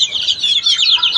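Chickens cluck and chirp in a short, close burst of rapid, high-pitched calls, with young chicks among the flock.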